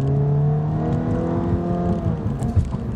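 A warmed-up Dodge Dart GT engine revs up and down nearby, its pitch climbing and falling in a few rising sweeps, loud and without talk.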